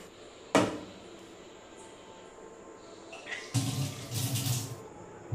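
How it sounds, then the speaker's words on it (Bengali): After a sharp knock, a kitchen tap runs steadily for a couple of seconds while rice is washed, water splashing close by in a quiet room. "আমি এখন চালটা ধুয়ে ভাতটা বসিয়ে দিচ্ছি"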